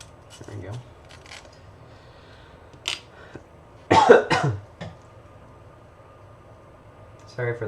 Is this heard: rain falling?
no